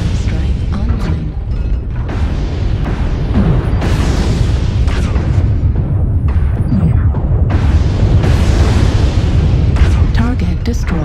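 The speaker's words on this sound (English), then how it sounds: "Artillery strike online." A loud, continuous barrage of booming artillery strike explosions in a video game, heavy overlapping blasts rumbling throughout with a few sharper crashes standing out.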